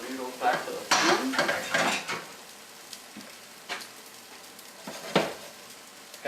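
Cooked pasta noodles tipped back into a pan for cheeseburger mac, giving a few loud clattering scrapes and stirring clinks early on, then sparser soft knocks and taps.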